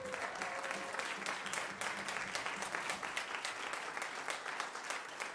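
A jazz concert audience claps for the pianist, the sharp individual claps audible as a lively, moderately distant wash that holds steady throughout, with a faint held tone early on.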